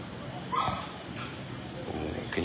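Small puppies yip and whimper softly in a video game, a few high squeaks over a steady background hum.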